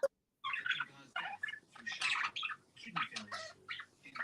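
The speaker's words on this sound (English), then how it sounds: "There's so much sound from such small birds." Several small pet birds squawk and chirp loudly and almost continuously in bursts, close by, in a busy overlapping chorus with no talk.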